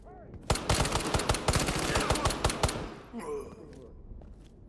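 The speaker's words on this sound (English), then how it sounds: "At least it seems like the NPCs don't react to gunshots." Rapid burst of gunfire, a quick string of loud sharp shots over about two seconds, then quieter clattering game sounds afterward.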